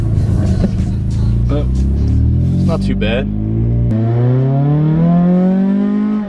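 Lowered car with a leaky, taped-up exhaust revs and drives over a hump, its rough engine note rising after a sharp bang, with someone talking briefly early on.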